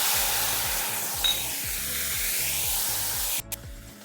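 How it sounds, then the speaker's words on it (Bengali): Tomato paste fries in a pan after the tempering for a Bengali katla fish curry, giving a steady, close hiss and sizzle that runs almost the whole clip before dropping away near the end. "আগে টমেটোর পেস্টটা একটু ভেজে নেব।"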